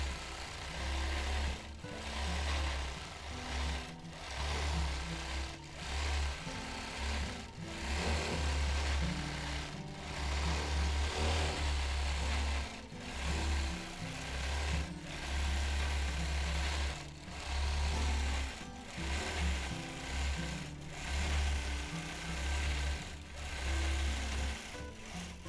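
A sewing machine runs steadily through free motion paisley quilting, its low motor hum and rapid needle patter continuing close up with brief slowdowns and pauses.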